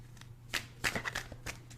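Cards of a Wild Unknown tarot deck by Krans are shuffled in short crisp bursts, close and fairly soft, several quick flicks and slides in a row.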